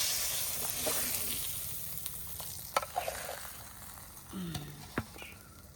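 Cumin, garam masala, dry chillies and bay leaf frying in leftover fish-frying oil, a hissing sizzle that fades over time, with a few clinks and scrapes of stirring nearby.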